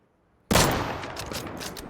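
Gunfire in the game Deadside erupts after half a second of near silence, a loud burst of shots that rings out and decays with a few sharper cracks following.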